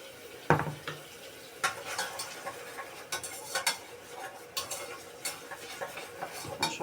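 Food sautéed in a pot in a home kitchen, with a utensil stirring and clinking against the pot in irregular taps and scrapes over a faint sizzle, close by and without talking.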